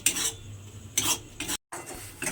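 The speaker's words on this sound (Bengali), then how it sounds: "এবারে এটাকে একটু নেড়ে নেড়ে কিন্তু আমাকে একটু ভাজা ভাজা মতো করে নিতে হবে" A utensil stirs and scrapes pointed gourd peel paste frying in oil in a wok, coming in several loud, separate strokes with short pauses between, close up and without talk.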